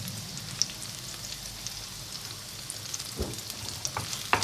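Lightly browned green peppers sizzling in oil in a frying pan, a steady crackling hiss close by with scattered pops and a brief utensil scrape near the end, no voices.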